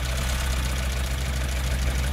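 A Niva off-road vehicle's engine runs at a steady idle, a continuous low rumble with a faint knocking throb, close and loud with no speech.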